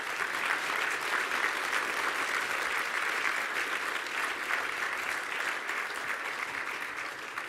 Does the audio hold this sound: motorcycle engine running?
no